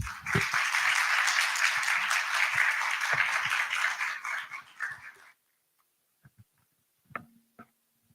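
An audience claps steadily for a speaker taking the floor at a talk, with dense applause lasting about five seconds before it stops abruptly, followed by a few faint scattered knocks and shuffles in the quiet room.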